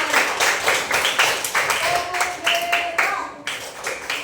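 A classroom of pupils claps hands in short, rhythmic bursts, several quick rounds of fairly close clapping with a brief pause near the end.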